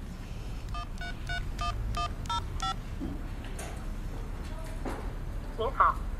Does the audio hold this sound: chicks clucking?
no